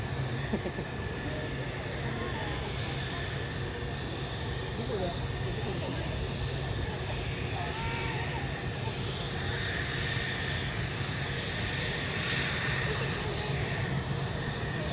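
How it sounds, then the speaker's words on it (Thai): A fixed-wing military jet flies at the Yokota Air Base Friendship Festival, its engine roar a steady distant rumble sustained throughout, with crowd murmur beneath. "วันนี้เครื่องบินอะไรเนี่ยเครื่องบิน"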